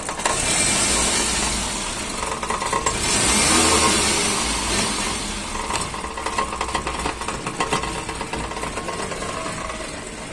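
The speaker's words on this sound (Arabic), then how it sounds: "شوف كيف يدير الموتور تاعك" A car engine left without its parking brake runs with a fault in the idle control. It idles roughly, then revs up and falls back several times in uneven surges, close and loud, with no talking.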